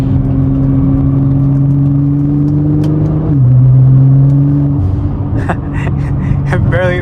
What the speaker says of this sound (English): The blow-off valve in this car is so loud.